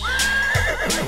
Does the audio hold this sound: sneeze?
no